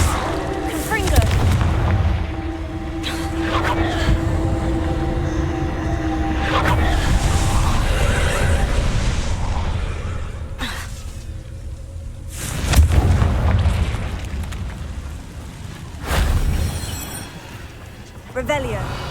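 Confringo blasting spells set off repeated explosions in Hogwarts Legacy, booming bursts rising over a rumbling game soundtrack with spoken voice lines mixed in.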